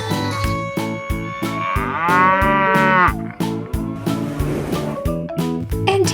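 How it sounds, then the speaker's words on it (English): Jersey cows on a farm mooing: a long drawn-out moo rises in the middle over a steady, rhythmic pulsing backing, loud and close. "And here are the Jersey cows."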